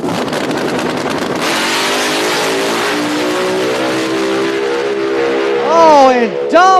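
A supercharged small-tire drag race car with a big blower, the Bumblebee car, roars hard down the track, a loud sustained engine howl that climbs in pitch through the run, then sharp rising whines near the end.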